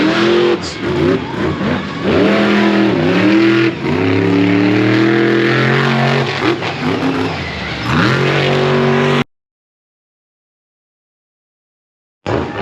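Monster truck engine roaring loud and close during a run at Charlotte Motor Speedway, revving up and down in repeated surges for about nine seconds before cutting to silence, then briefly returning.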